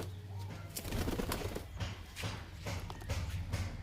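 Pigeons kept in a loft in Taldi coo and shuffle close by, a dense, continuous murmur of low throaty calls with occasional wing flutters.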